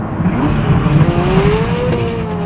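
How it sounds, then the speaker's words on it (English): A turbocharged Ferrari F40 supercar drives with a steady, loud engine drone and a gradually rising tone that holds throughout, heard close from inside the cabin. "It's the Ferrari F40, and I'm sitting in one now"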